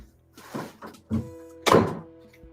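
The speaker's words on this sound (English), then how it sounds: "I'm about to close my door" A door indoors is pushed shut with a few creaks and knocks as it moves, then closes with a single solid thunk near the end, heard close by with no speech.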